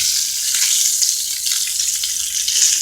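Bacon sizzles steadily in a hot pan, a bright, even crackle of spattering fat with small pops and no voices.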